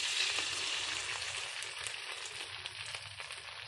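A leftover egg fries in cooking oil, giving a steady, even sizzle with crackling throughout and no voices.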